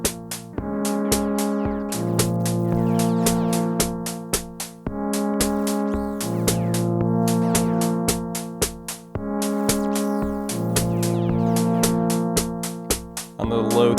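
Korg Volca Drum synthesizer playing a looping electronic beat with sharp percussive hits and a resonant, ringing waveguide tone that sustains and echoes like a delay across repeating bars.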